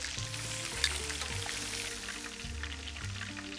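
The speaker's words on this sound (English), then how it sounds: "Now it's starting to sizzle." Meatballs browning in a hot pan with tomatoes to follow, a steady crackling sizzle with intermittent low bubbling pulses, close and fairly quiet, no voices.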